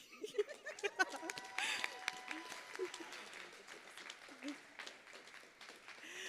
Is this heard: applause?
yes